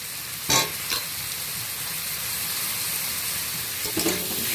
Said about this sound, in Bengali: একসাথেই ভাজা হয়ে যাবে পেঁয়াজ আর আলু